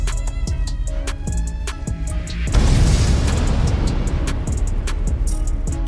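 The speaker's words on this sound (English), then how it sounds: "The impact triggers an explosion and the vehicle bursts into flames." A drone strike hits a Russian armored vehicle, setting off a sudden loud boom that rolls into a sustained roaring rumble of burning, heard after a stretch of steady mechanical noise.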